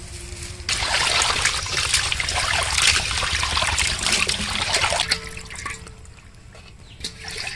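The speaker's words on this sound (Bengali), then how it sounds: "সুন্দর ধোয়া হয়েছে মাছ, হেবি সুন্দর" Water splashes and trickles continuously as fresh fish are washed by hand in a village kitchen, a close, busy sound that eases toward the end.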